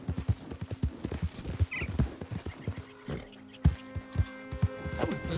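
A horse's hooves clip-clop in steady, rhythmic footfalls in Red Dead Redemption 2, with a brief whinny partway through and game music and ambience underneath.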